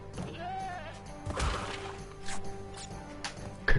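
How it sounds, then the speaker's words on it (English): A goat bleats in the Crash Bandicoot video game, a short wavering animal cry backed by game music and punctuated by a few sharp thwacking hits. "Right, a goat."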